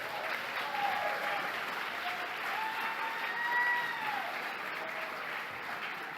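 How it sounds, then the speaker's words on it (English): Steady, full applause from the crowd at a pride awards ceremony, even and sustained throughout with faint tonal sounds drifting above the clapping. "Please give them all a round of applause."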